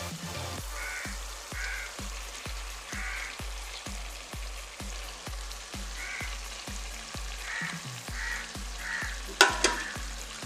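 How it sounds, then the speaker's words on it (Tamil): Half a kilo of mutton sizzles in hot oil while being stirred for biryani, a steady frying hiss broken by regular, rhythmic scraping strokes of the spoon, close and fairly loud throughout, with a sharper clatter near the end. "மட்டன் கொஞ்சம் எண்ணெயில் நல்லா வேகட்டும்."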